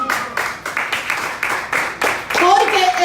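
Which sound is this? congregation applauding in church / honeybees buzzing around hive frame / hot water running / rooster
congregation applauding in church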